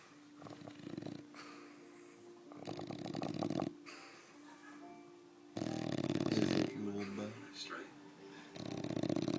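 A bulldog snores in loud, rough bursts, several drawn-out rattling breaths close by with quieter pauses between them.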